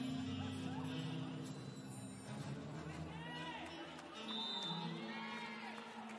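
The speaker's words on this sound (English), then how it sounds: "mixed reaction from the crowd and confusion from the players down on the court" Spectators at a CEV Champions League women's volleyball match between Developres Rzeszów and Eczacibasi Istanbul react with a mixed, steady arena murmur, scattered shouts and whistles rising and falling throughout, with voices talking over it.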